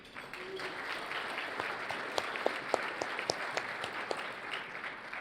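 Audience at a chamber of commerce economic forecast breakfast applauding, a steady patter of many hands clapping at moderate distance for several seconds, with a few sharper claps standing out near the end.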